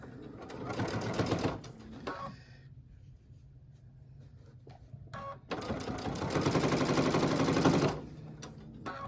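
A sewing machine stitches a Christmas snow globe wall hanging in fast mode, running in two steady bursts separated by a quieter pause with small handling noises.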